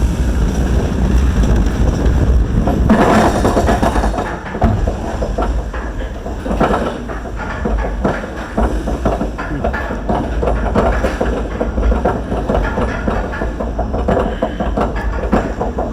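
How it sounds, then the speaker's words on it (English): Busch Gardens Williamsburg Loch Ness Monster Arrow roller coaster ride, with loud continuous wind rush and rumbling track noise throughout, steady and close, with no clear talk. "We're gonna take a ride on their classic aero coaster."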